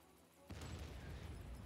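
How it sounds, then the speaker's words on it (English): A sudden explosion in the video game Dead Rising erupts after a quiet moment into a faint, sustained rumbling roar that keeps going without easing off. "That's just a random explosion."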